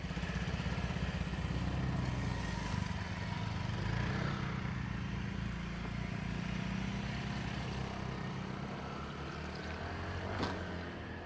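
A Honda PCX scooter is ridden steadily, its engine giving a continuous low drone with mild wind rush and slight rises and dips throughout, with no voices.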